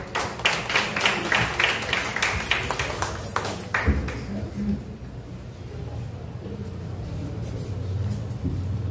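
Audience applause at a French reflection and speaking contest session, a dense patter of clapping for roughly four seconds that thins out and gives way to a quieter room hum.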